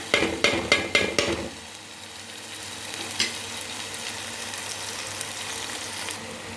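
Fish curry is stirred in a frying pan, a quick series of scraping stirs at the start giving way to a steady, close sizzle with one more brief scrape partway through.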